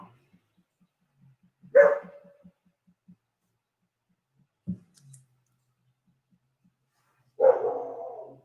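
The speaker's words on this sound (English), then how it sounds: "it looks like the mail's here. I think the dog's going to take care of him." Dog barking at a mail carrier, three sharp barks spread far apart, the last one longer and trailing off, with quiet clicking between them and no talking.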